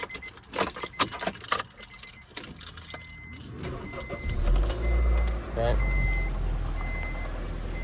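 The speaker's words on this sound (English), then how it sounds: "Car started, still has that little rattle in the beginning." A $300 Honda CR-V engine starts after keys jangle, the motor catching and settling into a loud, steady low idle with a slight rattle at the start; a voice speaks briefly before it.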